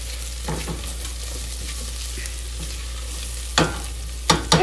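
Peppers sizzle steadily in a hot pan and are tossed around, a constant frying hiss broken by a few clattering stirs and scrapes, up close with no talking.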